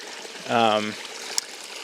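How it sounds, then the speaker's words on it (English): Water flows steadily over the intake of a micro hydro setup, a soft continuous trickle in the background, briefly covered by a short voiced sound. "we may even see less water flowing over the top"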